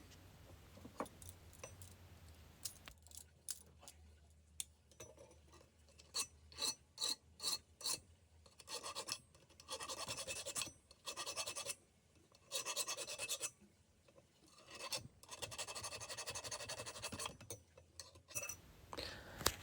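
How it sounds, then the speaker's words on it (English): Hand file rasping across a piece of scrap brass for a cabinet door catch, steady back-and-forth strokes in bursts, close and fairly loud, with brief pauses between runs and no talking. "now I've done the coarse file, I'm moving to a finer file"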